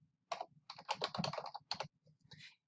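Keys on a computer keyboard are tapped in quick clustered bursts while entering text into an Excel 2016 spreadsheet, crisp and close, with short pauses between words.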